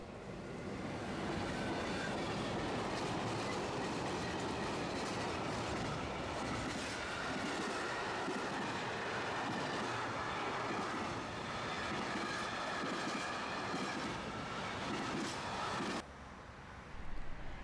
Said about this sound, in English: This is a classic Antwerp-bound freight, caught west of Lier, that, despite the use of 1980s locomotives, was filmed in 2015.